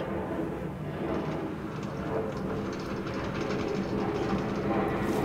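A Brooklyn-bound A Express subway train rumbles along the track, a steady loud rolling roar with faint rattling and clatter heard from inside the car.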